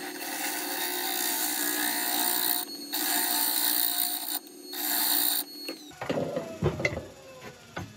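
A lathe spinning a horse chestnut bowl as finishing cuts are taken, a steady whirring hiss of the tool against the wood that pauses twice, then stops and gives way to scattered knocks and scrapes.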